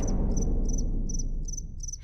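A cartoon cricket chirps in short regular bursts, about five or six evenly spaced trills, close and clear over a low rumbling background with no talk.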